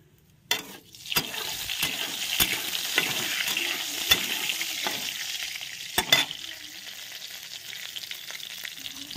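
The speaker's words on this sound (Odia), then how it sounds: "ତେଲ ବି ଗରମ ହେଇଗଲା, ଫୁଟଣ ପକେଇ ଦେଲି" Panch phoron spices crackle and sizzle in hot oil, a steady frying hiss with sharp pops and spatter bursts near the start and again midway, close and without any voice.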